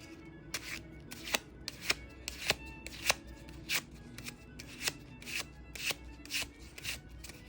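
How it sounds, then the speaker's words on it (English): A roughly 200-year-old antique Lenormand card deck is being shuffled by hand, giving a dozen or so crisp, close riffling bursts at a brisk, fairly even pace over quiet room tone. "let's give her a little bit of a shuffle and see how she sounds and how she feels"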